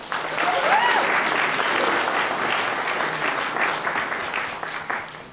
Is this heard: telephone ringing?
no